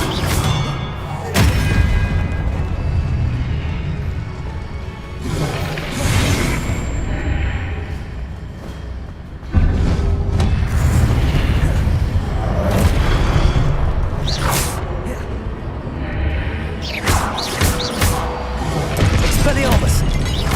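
Expelliarmus spell blasts go off in the game Hogwarts Legacy as loud, dense booms and crashing surges. They follow one another for about twenty seconds, with voice-like shouts mixed into the din.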